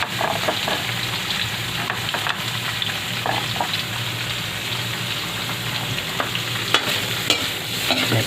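Pancit miki bihon noodles with shredded chicken breast are stirred in a hot pan, giving a continuous sizzle with a steady scraping stir and no talking.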